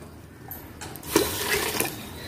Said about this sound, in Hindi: फिर हम इसमें ये दाल डालेंगे और फिर इसमें थोड़ा गर्म पानी डालिए।